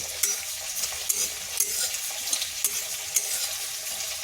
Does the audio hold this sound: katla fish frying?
yes